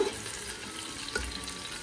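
Ginger garlic paste fries with golden-brown onions in a quiet, steady sizzle, with a soft stir or bump now and then.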